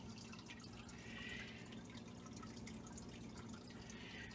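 Water trickles through a drip acclimation line for female betta fish, with faint, soft drips and light water movement over a steady low hum.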